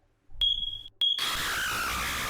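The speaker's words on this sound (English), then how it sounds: "I know whose smoke detector battery been dying since Biden left office." A single high electronic smoke detector low-battery chirp sounds, then a second brief chirp, after which a steady broadband hiss of background noise fills an apartment room.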